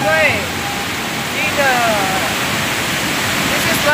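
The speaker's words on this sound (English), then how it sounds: "It's Yolo River." Yolo River flowing outdoors, a steady broadband rush of moving water with bird chirps scattered over it, and a voice faintly heard beneath the continuous wash.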